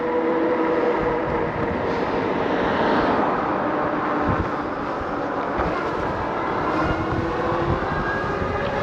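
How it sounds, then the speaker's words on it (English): Steady, loud wind rush while riding an electric bicycle against a headwind, a continuous broadband roar that stays dense and unbroken throughout with no voices. "I'm riding against the wind right now. I don't know if you can hear it."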